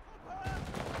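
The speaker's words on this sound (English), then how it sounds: "Definitely, somebody's shooting me." Gunfire in the video game Enlisted during a Berlin battle at Lehrter Bahnhof: a dense burst of shots swells up about halfway through and continues loud to the end, after a quieter start.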